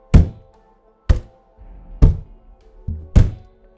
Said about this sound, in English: he could hear someone slamming on the window